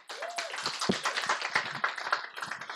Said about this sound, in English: give yourself a round of applause for showing up tonight